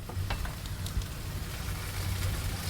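Spices go into a pan of spinach gravy, which fries with a steady, close sizzling hiss and faint stirring clicks, with no voices.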